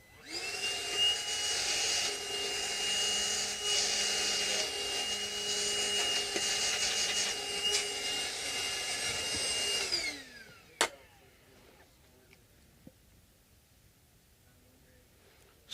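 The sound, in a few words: shop vac vacuuming up white powder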